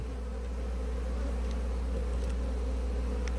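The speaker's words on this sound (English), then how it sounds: "There's a good few bees in there" Honey bees buzz inside an apiary hive, making a dense, steady drone with a low hum beneath it. The sound is close and continuous, and no one speaks.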